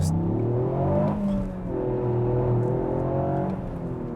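A 2021 Toyota GR Yaris hot hatch accelerates, its engine tone climbing through the revs with a brief dip like a gear change, heard steadily from nearby without talk.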